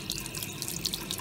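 Water runs briefly as a Japanese-made GENEN salt meter probe is rinsed with dish soap, a soft splashy trickle close by.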